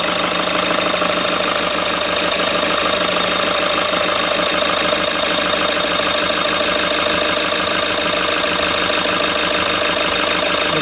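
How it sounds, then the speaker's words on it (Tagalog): A freshly overhauled Toyota Hiace van engine idles steadily and loudly up close, a continuous even rumble with a light mechanical knock and no other sounds. "Maganda na yung tunog ng makina."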